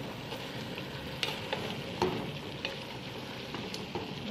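Spice powders go into a pan of chicken salona cooking on the stove, giving a steady soft sizzle with light scraping stirs and occasional clinks of the utensil against the pan.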